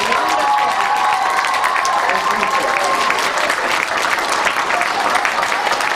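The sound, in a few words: auditorium audience applause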